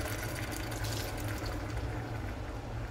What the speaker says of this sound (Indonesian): Ini saya mau tambahkan lagi airnya.